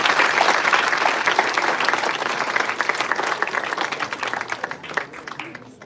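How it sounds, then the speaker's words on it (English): A big crowd claps at a college seminar in a standing ovation, dense and steady at first, thinning into scattered claps toward the end. "Please give standing ovation and huge round of applause once again, sir."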